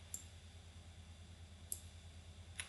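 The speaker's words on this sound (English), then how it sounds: "Let's click on save." Three faint, crisp mouse clicks spaced across a quiet few seconds while saving in SQL Accounting software, with no voice.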